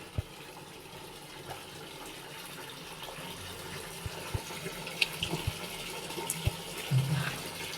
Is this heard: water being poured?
yes